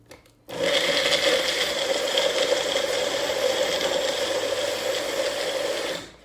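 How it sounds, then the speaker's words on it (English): A Magic Bullet blender whirs loudly and steadily for about five and a half seconds while mixing a vegan breakfast, starting and stopping abruptly. "I get out my magic bullet. You can use whatever kind of mixer you have on hand. And I just mix it up."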